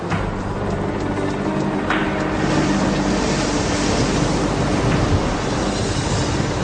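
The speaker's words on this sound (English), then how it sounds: "The sea pounds them against the rocks." Loud, continuous crash of sea waves pounding against rocks, with rushing surf and gusting wind noise buffeting the microphone.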